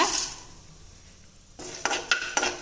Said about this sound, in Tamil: இப்போ இதே எண்ணெயிலேயே நம்ம கடலைப்பருப்பு சேர்த்துடலாங்க